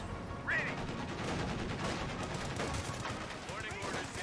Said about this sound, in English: Paratroopers now firing away